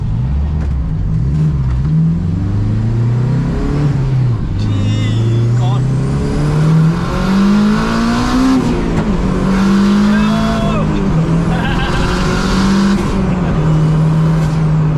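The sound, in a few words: cars racing, engines accelerating, near a Civic Type R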